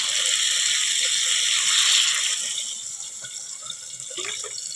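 Water poured into a cooking pot of fried pumpkin, potato and fish-head curry, a steady close splashing rush that swells and then thins toward the end.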